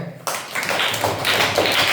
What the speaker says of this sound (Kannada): ವೆಲ್ ಚಪ್ಪಾಳೆ